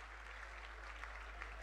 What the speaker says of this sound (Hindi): बहुत बहुत जोरदार ताली बजाकर डॉक्टर साहब का अभिनंदन करें